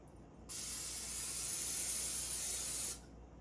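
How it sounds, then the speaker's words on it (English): Cooking oil spray is released onto a baking pan for banana chocolate chip bread, a single continuous hiss of about two and a half seconds that starts and stops abruptly against quiet. "So I'm gonna spray it off camera though"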